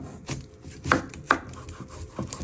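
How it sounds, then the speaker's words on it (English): A knife chops through an onion on a cutting board, four or five distinct close thuds at an uneven pace, with no talking. "Then you're going to chop it down the middle."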